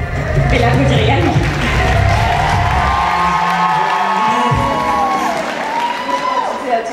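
A crowd at a Miss Picardie regional beauty pageant cheers and applauds a candidate, with loud whoops and shouts rising over the clapping and voices calling out throughout.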